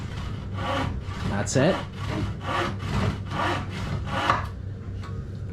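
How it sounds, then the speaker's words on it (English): A Japanese pull saw cuts wood by hand in a workshop, about eight even rasping strokes in steady rhythm, close and moderately quiet, with a brief spoken remark. "It's just getting used to a Japanese saw"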